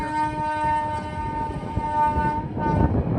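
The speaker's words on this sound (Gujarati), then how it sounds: "ટ્રેન આવી ગઈ છે" A train sounds a long, loud horn as it rolls in, with rumbling wheels and rattling carriages close by.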